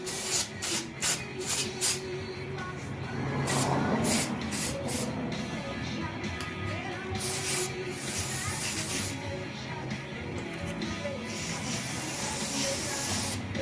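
Cleaner is sprayed onto a carbon fiber board to clean skateboard bearings. Several quick hissing bursts at the start are followed by longer spray hisses and rubbing.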